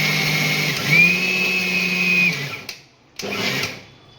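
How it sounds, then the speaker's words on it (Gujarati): A mixer grinder whirs steadily as it grinds ingredients for a no-cook Bengali sweet, a loud continuous motor drone that pauses briefly near the end and then starts up again. "બેને ભેગું જ કરીને પીસી નાખવાનું છે"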